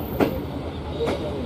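A twin ALCO WDG3A diesel locomotive hauls a freight train past Manmad station, its engine rumbling steadily under faint rail clatter and hum, with no voices.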